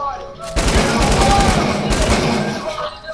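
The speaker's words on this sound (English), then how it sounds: "Somebody was shooting at me." Rapid automatic gunfire in a PS4 video game bursts in after a short quiet lead-in, a loud, dense stream of shots lasting a few seconds before tapering off.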